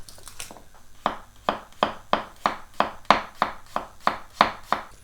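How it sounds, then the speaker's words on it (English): A knife chops a very large garlic clove on a cutting board in quick, even strokes, a dozen or so crisp close taps in a steady rhythm with short pauses between them. "we just need to slice it thinly and small"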